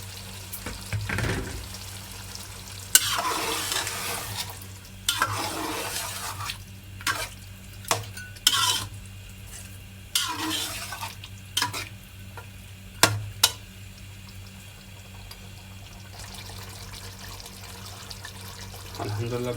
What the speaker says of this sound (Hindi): दही डालेंगे और थोड़ी देर के लिए बस भुनेंगे।